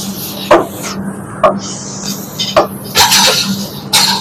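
Spatula scraping and clanking against a pan while chicken and capsicum are stirred, with several sharp metallic knocks spread irregularly over a steady low hum of cooking.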